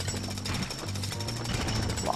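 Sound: pneumatic jackhammer smashing objects in LEGO City Undercover video game

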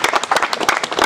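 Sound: audience clapping

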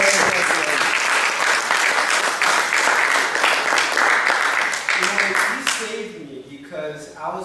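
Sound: audience applause

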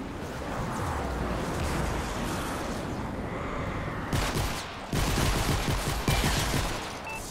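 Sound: gunshots in Fortnite video game

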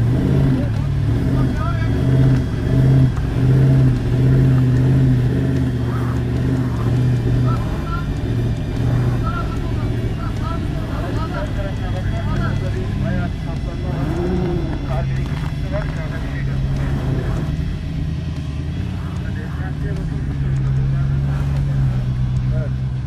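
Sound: 4x4 off-road vehicle engine revving during a towing recovery

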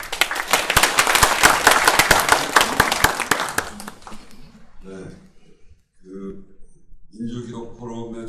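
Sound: audience applause at political event

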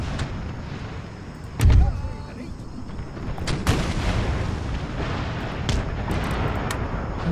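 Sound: cannon and gunfire in the Empire Total War video game

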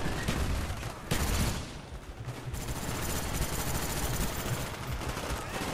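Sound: AK rifle gunfire in Call of Duty Black Ops video game

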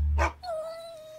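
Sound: dog barking

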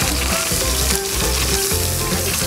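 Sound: steak sizzling in a pan

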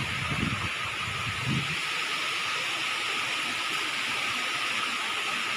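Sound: Khlong Narai waterfall, Namtok Phlio National Park

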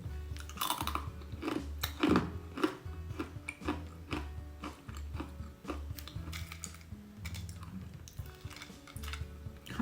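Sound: chewing crispy dried baked vegetables and fruit

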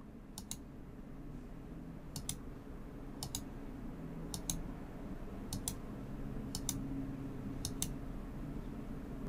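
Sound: mouse clicks during Windows 10 installation setup

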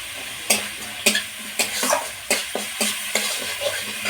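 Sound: spice paste frying and being stirred in a pan after adding salt

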